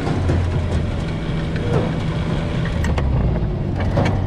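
A buggy drives across hilly farm fields with a steady, loud engine and a rumble of rolling wheels, with occasional rattles and bumps throughout and no talk.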